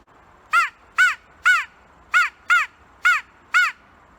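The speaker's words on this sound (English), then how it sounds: "that does sound like a crow to me" A homemade DIY crow call is blown in seven short, evenly spaced caws, each a clear, close crow-like note with little rasp, over a quiet outdoor background.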